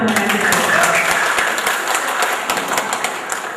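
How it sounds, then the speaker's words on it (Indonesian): A crowd at a regional election event in Jember claps loudly for the local people: steady, dense applause with sharp individual claps throughout, slowly thinning toward the end. "Tepuk tangan untuk masyarakat kita."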